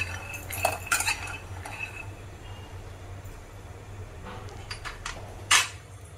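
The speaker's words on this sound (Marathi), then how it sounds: "मीडियम गॅस ठेवायचा आणि शेंगदाणे भाजून घ्यायचे" Peanuts dry-roasting in a pan over medium heat, rattled and stirred with a spoon in scattered metallic clinks and scrapes over a low steady hum.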